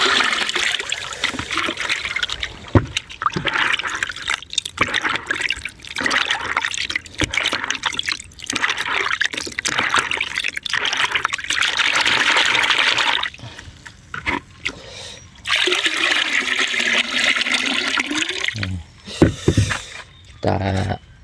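Liquid organic fertilizer with humic acid is poured into a water tank in a steady splashing, gurgling stream, with short pauses and a final trickle; voices talk at moments.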